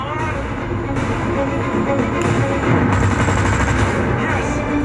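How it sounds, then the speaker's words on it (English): Rapid cannon fire from a fighter jet's gun during a dogfight scene in a Pakistani air-combat film with Mirage jets, a dense continuous burst layered over loud roaring engine and score, with faint voices in the mix. "Hitting the pickle button to shoot the gun"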